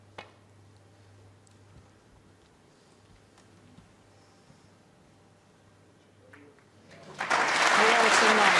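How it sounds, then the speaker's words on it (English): After a long hush in a snooker arena at the World Championship semi-final, the crowd suddenly bursts into warm applause that swells quickly and stays loud through the end. "crowd giving him a nice round of applause"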